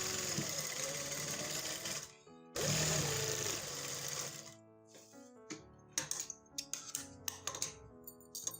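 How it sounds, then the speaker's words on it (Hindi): A sewing machine runs fast along the edge of a trouser piece in two close bursts of stitching, then slows into scattered clicks and taps as the fabric is handled. "इस तरह से ये हमने किनारे पे साथ ही सिलाई लगा देनी है"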